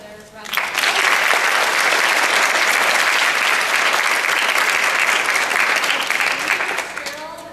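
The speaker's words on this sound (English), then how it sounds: "another round of applause" Loud audience applause after a talk on climate science and public policy, swelling quickly into sustained dense clapping, then tapering off as a voice returns at the very end.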